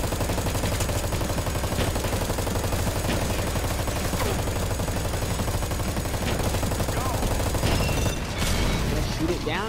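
Sustained submachine gun fire in a video game, a rapid rattling stream of shots that runs steadily for several seconds with mechanical clatter and voices mixed in, ending in a louder burst.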